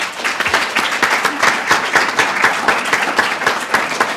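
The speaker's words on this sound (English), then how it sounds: "please join me in giving them a round of applause" Rhythmic, fairly loud clapping from a modest crowd at an awards ceremony, individual claps standing out in a steady beat throughout.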